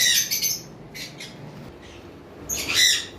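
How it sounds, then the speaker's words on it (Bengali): Lovebirds, a blue masked and a violet masked pair in breeding mood, give sharp squawking calls in a cage, in short bursts at the start, middle and end, close and loud. "এইখানে দুইটা পারগুলো লাভবার্ড রয়েছে একটা পারগুলো ব্লু মাস্ক আর একটা হলো পারগুলো ভায়োলেট মাস্ক"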